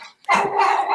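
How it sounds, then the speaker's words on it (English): A pet dog gives one sharp, loud bark close by, indoors, preceded by a faint short sound. "Yeah. That's my dog."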